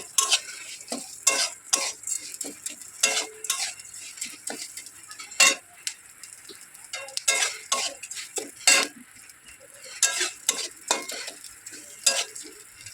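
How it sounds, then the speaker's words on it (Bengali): Red lentils fry and are stirred in a pan, with repeated sharp scrapes and clinks of a metal spoon over a soft sizzle, close and rhythmic without speech. "ডালটা দেওয়ার পর কতক্ষণ ভাজা ভাজা করতে হবে একটু ভেজে নিতে হবে ডালটা"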